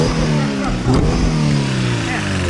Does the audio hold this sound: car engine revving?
yes